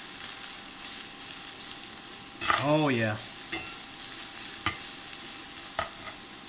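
Leftovers stir-frying in oil in a skillet on an induction burner give off a steady, close sizzling hiss with a few sharp clicks, and a voice briefly exclaims partway through.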